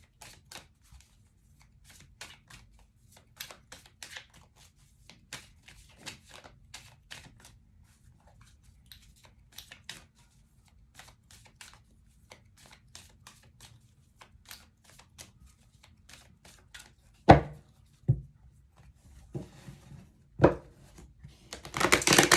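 A deck of oracle cards is handled in a quiet room: faint scattered card flicks and slides, then a few louder close shuffling bursts and slaps toward the end.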